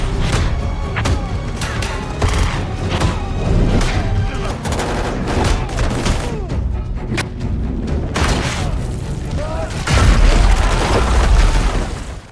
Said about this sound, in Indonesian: Cyrus memerintahkan anak-anak buahnya untuk menembaki Joe